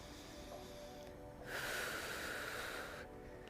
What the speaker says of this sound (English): Deep exhale.